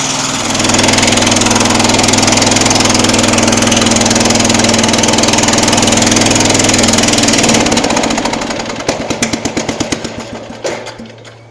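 The engine of a Jacobsen Chief 800 lawn tractor idles at a loud, steady drone while warming up, then falters into a stuttering, uneven run and fades out near the end.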